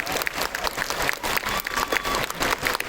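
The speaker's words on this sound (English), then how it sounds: "Give a round of applause." An audience at a convention opening ceremony gives a round of applause, a dense, steady patter of many hands clapping at moderate volume for a few seconds.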